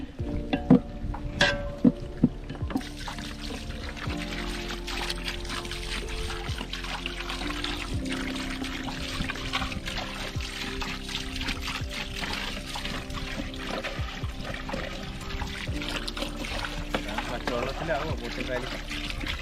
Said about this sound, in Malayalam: നമുക്കിനകത്ത് വെള്ളം ഒഴിച്ചു കൊടുക്കാം